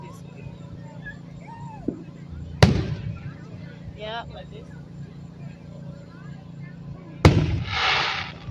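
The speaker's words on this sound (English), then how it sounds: "we're seeing fireworks right now" Fireworks bursting at an evening display in Broussard, Louisiana, with two sharp, loud bangs several seconds apart, the second followed by a crackling shower, while people talk nearby throughout.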